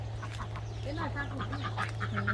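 Muscovy ducks on a farm in Buriram, Thailand give a run of short, hoarse calls close by over a steady low hum, with people talking in the background.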